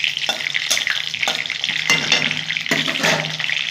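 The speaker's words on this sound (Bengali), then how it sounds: "ফোড়নটা একটু ভাজা করে নেবো।" Two dried red chillies fry in hot oil as a tempering for a Bengali lentil dish, giving a steady crackling sizzle broken by several bursts of stirring and scraping in the pan.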